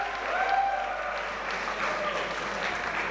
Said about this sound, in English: So can we have again one round of applause for students who are volunteers?